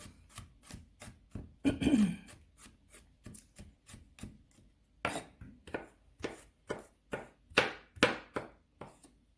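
Basil being chopped with a knife on a cutting board, with a quick run of sharp, close knocks in an uneven rhythm and brief pauses between bursts, heard alone.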